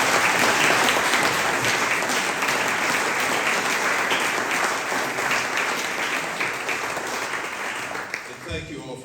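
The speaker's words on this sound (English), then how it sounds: "Please give these guys a round of applause" Audience applause at a judicial town hall event, a loud, dense burst of clapping from a large crowd that holds steady for several seconds, then thins and tapers off.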